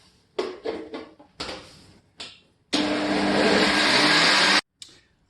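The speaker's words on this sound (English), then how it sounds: "So I'm going to go over and blend this up." A kitchen blender purees probiotic hot sauce, first in several short pulsed bursts, then in a loud, steady whir for about two seconds that cuts off abruptly.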